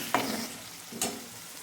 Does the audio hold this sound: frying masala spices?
yes